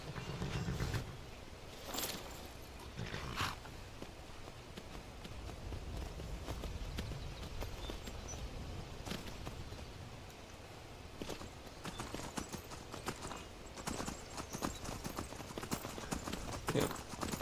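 Horse hooves clip-clop in a steady walking rhythm throughout a Skyrim game scene, moderately close and fairly quiet, with faint voices at moments.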